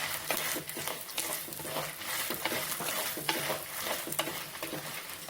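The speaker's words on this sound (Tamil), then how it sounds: "இப்போ இதுல வந்து இந்த எண்ணெயிலே ஒரு 4 வெங்காயம்" Four onions fry in oil for a village-style ground-masala sambar, a close, steady sizzle with frequent stirring scrapes and spatters, moderately loud and free of talk.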